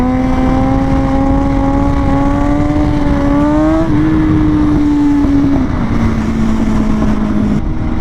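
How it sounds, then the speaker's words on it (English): A motorcycle engine revs high and holds a steady whining pitch for a clutch-up wheelie, wavering and dipping slightly as the revs shift, loud against constant background noise. "I revved the bike up pretty high to bring the bike up to balance point."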